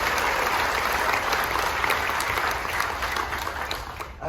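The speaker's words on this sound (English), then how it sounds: "let's give them another round of applause" A large audience aboard the Carnival Magic cruise ship at a military appreciation gathering applauds the Coast Guard, with loud, sustained clapping and some cheering filling the whole stretch before tapering slightly at the end.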